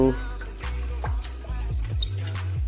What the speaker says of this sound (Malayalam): അത് ഒരു പാത്രത്തിലേക്ക് നമ്മൾ വൈൻ ഒഴിക്കുകയാണ്